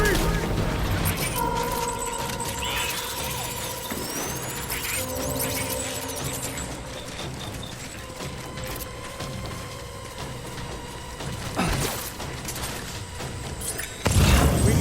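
Sustained gunfire and booming blasts in a Death Stranding battle, a dense loud barrage that rolls on without pause, with shouted voices over the fighting.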